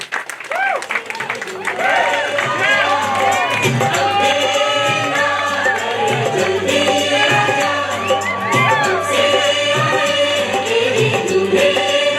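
Clapping and cheering from wedding guests welcoming the groom, Kapil, to the ceremonial fire pavilion. The crowd noise is dense and continuous, mixed with music and voices.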